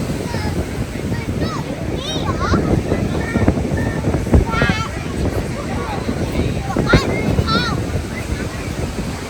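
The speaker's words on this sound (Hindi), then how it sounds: "सही बिखरी हुई है लहरें" Ocean waves breaking on a Cornwall beach at sunset, a continuous close wash of surf with wind buffeting the microphone and a person talking over it.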